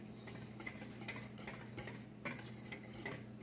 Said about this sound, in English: I'm just mixing it up like so